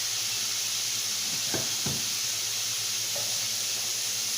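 Breaded chicken breast strips frying in a pan, a steady bright sizzle throughout with a few brief clatters near the middle as pieces are moved or added.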